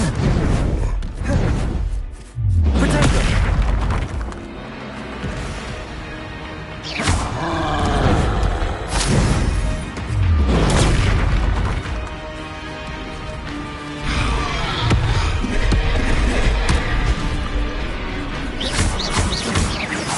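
Bombarda and Confringo spell blasts in the Hogwarts Legacy video game, a dense run of loud crashing booms and whooshes, repeated impacts roughly every couple of seconds over continuous battle noise.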